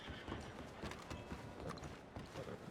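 Horse hooves clip-clop at a walking pace in a video game, a quick uneven patter of soft thuds that stays close and fairly quiet throughout.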